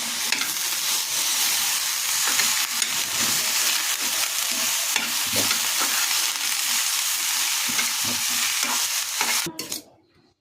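Salad ingredients roast in a hot pan with steady, loud sizzling and occasional stirring scrapes, then the frying noise cuts off abruptly near the end.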